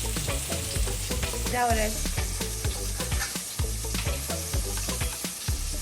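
Hamburger patties frying in a pan, with loud steady sizzling broken by rhythmic clatters and scrapes of a spatula, heard up close while someone briefly speaks.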